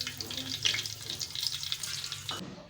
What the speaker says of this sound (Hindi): हम ये सारी मिर्ची पहले इसमें फ्राई कर लेंगे